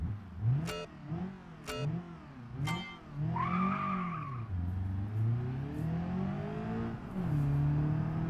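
A Covet car in the BeamNG video game drives on Jungle Rock Island, its engine revving up and down in repeated swells while tires squeal and skid briefly, loud and close, with no talking.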